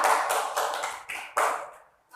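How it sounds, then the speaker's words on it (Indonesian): A small class claps for a student during a peer-teaching lesson, giving a few short, fairly quiet bursts of clapping that trail off into silence. "Tepuk tangan untuk Anissa."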